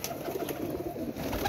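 Pigeons kept at a home loft coo softly in low, rounded murmurs, close and somewhat faint over a brief, steady stretch with no talking.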